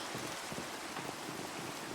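Steady rainfall in the Minecraft video game, a dense, even hiss of drops pattering on surfaces, uniform and unbroken with no talk over it.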